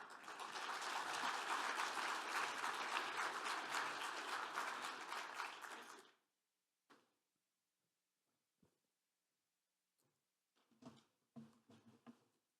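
An audience gives a conference panel a steady round of applause for about six seconds. It stops abruptly, and a few scattered knocks and shuffles follow in near silence.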